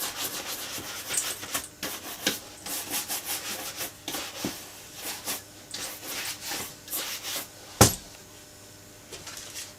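Shoe brush swept in quick rotating strokes over leather boots, close dry bristle scrubbing in irregular bursts, with one sharp knock near the end.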